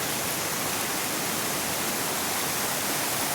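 Proxy Falls in Oregon roars as a constant, even rush of falling water, a dense wash of noise without pauses or other sounds.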